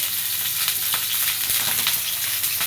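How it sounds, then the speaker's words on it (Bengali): Cut potatoes fry in hot oil with a dense, even sizzle that stays loud and close, a continuous crackling wash with faint stir clicks and no talking. "তেল গরম হয়ে গেছে এতে এখন ভেজে এখন ভাজবো হচ্ছে কেটে রাখা আলু"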